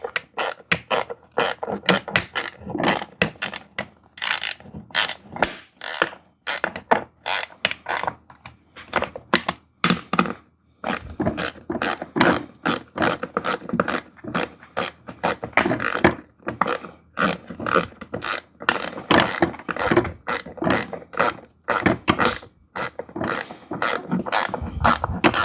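Rapid, sharp clicks ring out close and fairly loud in uneven bursts for the whole stretch, like a hand ratchet tightening bolts on a VEVOR hydraulic barber chair with 360° swivel and reclining seat. No talk is heard.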